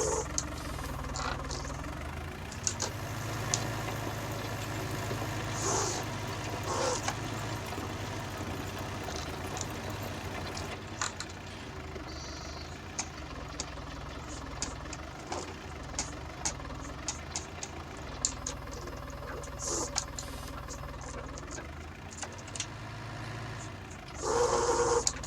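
A County 754 tractor engine runs steadily during spring cultivation, a low, continuous knocking diesel drone with faint clanks and rattles from the implement throughout.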